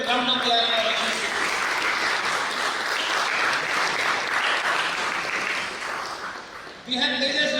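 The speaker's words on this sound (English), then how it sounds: "I want to have a big clap, good round of applause for Aashirvadhams." A crowd claps and applauds steadily for several seconds, fading slightly before a voice resumes speaking at the end.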